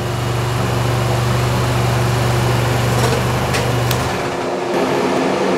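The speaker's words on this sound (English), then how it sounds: "That's why the engine restarted." A GM 1.4-liter GDI engine on a test bench runs after restarting, a steady loud hum with a low drone that drops out near the end, followed by a few faint clicks.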